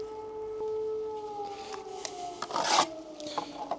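A Procraft PKA42Li cordless saw cuts through oak: a steady high motor whine drops slightly in pitch under load, then a louder rasping burst of cutting near the end before the motor winds on alone.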